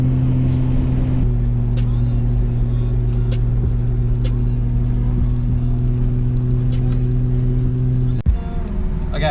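A car engine idles smoothly and steadily at close range, a constant low hum holding for several seconds before a sharp knock and a shift in the sound near the end.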